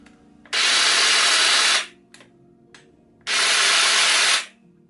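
An Excel 18V cordless hedge trimmer with a 410mm blade, model 11781, runs loud and close in two bursts of about a second and a half each, a steady buzzing whine that starts and stops abruptly with a brief pause between.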